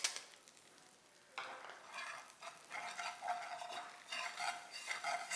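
Flour sautés in a pan for a white sauce, a soft sizzle under repeated scraping stirring strokes that grow busier and more uneven partway through, close and quiet, with no talking.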